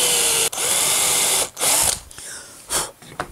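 A power drill drives a screw to fasten a fishing lure onto a PVC board, a loud close whine running steadily and then in several shorter bursts with brief pauses between.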